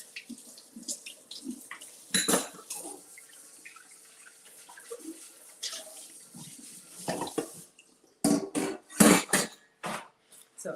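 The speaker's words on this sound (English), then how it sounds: "let me rinse off and clean up" Water running from a kitchen sink tap while hands are rinsed, a soft uneven trickle interrupted by handling noises, ending in several louder splashing bursts.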